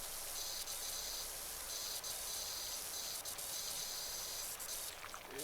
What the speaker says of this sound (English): It is a smaller nozzle spray, but it does kick out that a little bit more power.